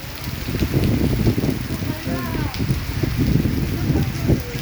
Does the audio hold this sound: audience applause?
no